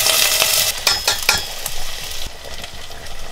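Onions sizzling and frying in a pan on a camp stove during a road trip, a steady crackle broken by a few sharp scraping stirs, close and fairly loud with no talk.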